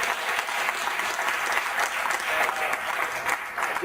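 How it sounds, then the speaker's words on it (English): An audience at a Tea Party gathering applauds candidates for State House, County Commission and U.S. Congress in a brief, dense burst of steady clapping from a roomful of people. "Let's have a round of applause for our candidates for State House, County Commission, and U.S."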